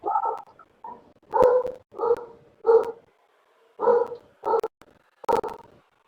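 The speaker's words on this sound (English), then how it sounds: "You've muted Marco's dog" A dog barks in a series of about seven sharp, fairly loud barks spaced unevenly, with near-silence between them and no talking.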